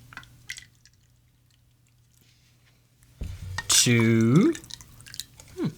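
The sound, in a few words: hot water being poured into a toddy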